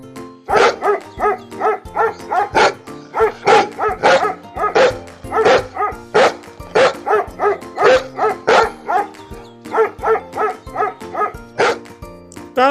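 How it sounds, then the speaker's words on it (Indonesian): A dog barks loudly and steadily, a long run of sharp, evenly spaced barks close up with no talking. "Anjing bahasa Inggrisnya dog."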